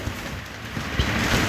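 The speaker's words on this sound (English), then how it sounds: "If you hear that in the background, it's raining here where I live." Steady rain falls outside a home as a soft, continuous wash of hiss, faint and distant, with no voices over it.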